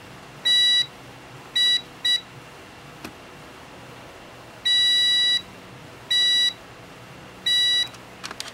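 A multimeter in continuity mode sounds a series of sharp, loud electronic beeps of varying length while its probes test a sensor on a PS4 console. About six separate tones are heard, with quiet pauses and light clicks between them.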